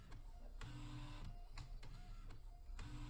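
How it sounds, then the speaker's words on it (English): A small, compact printer from 1994 prints with a steady mechanical whir broken by regular sharp clicks as the head moves back and forth. It is quiet and close, with no talking. "Such a joy to see such a small compact printer working from 1994."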